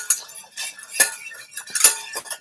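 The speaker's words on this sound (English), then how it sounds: "And it's time to whisk." A whisk clinks rapidly against a pan while beating butter and olive oil into a sauce, a close, steady metallic tapping in quick irregular strokes.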